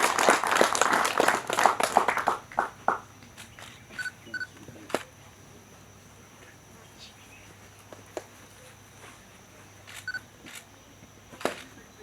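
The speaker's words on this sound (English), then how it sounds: "A thunderous clap." Audience applause at the launch of the Fort Portal Diocese coffee development policy, a brief burst of clapping from a crowd that fades within about three seconds, followed by scattered claps and an outdoor insect hum.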